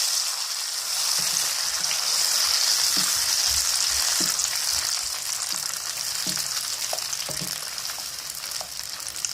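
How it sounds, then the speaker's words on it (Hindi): Blended tomatoes sizzle and fry steadily in a pan while being mixed, a continuous bright hiss with occasional soft knocks of the spoon stirring through. "अब हम इसके अंदर अपने टमाटो की जो हमने ब्लेंड किए थे उसको ऐड कर देते हैं और इसको मिक्स करते हैं"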